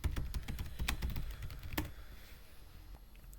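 A computer keyboard being typed on at close range as a git push command is entered, with quick irregular key clicks clustered in the first two seconds and a few sparse taps afterward.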